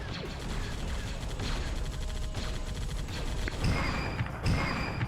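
Heavy energy-weapon fire from a proton cannon in a sci-fi video game, a dense, continuous barrage of booming shots with sharper blasts near the end, with no voices.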